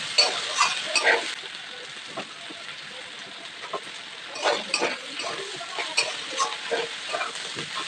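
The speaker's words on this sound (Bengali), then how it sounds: "তো এখন ভালো করে ভেজে নেব" Malabar spinach fruits sizzle in a pan while a utensil scrapes and stirs in irregular bursts; a faint voice occasionally murmurs underneath.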